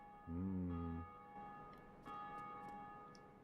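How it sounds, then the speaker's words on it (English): Bell tolling in Dark Souls Remastered's Darkroot Garden, a steady ringing tone sustained over droning ambience, with a few faint metallic ticks and a brief low hum near the start. "that bell is ringing non-stop now"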